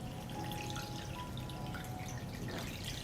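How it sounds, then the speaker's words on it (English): Steady trickle and splash of water poured into a pot lined with a cloth and holding preserve jars, a continuous quiet wash with faint drips. "I pour water up to the height of the lid."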